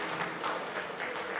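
A church congregation at a Friday night prayer service clapping in encouragement for the younger generation, a soft, continuous patter of many hands heard from a distance, faint and even.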